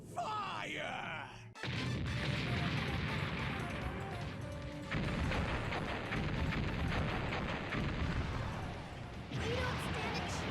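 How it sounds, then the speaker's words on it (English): Ship's port cannons firing in the video game Megaman Legends: loud, sustained booming barrage with crashing blasts, starting after a brief quieter opening and continuing densely, with voices and game sounds mixed in. "All port cannons, prepare to fire!"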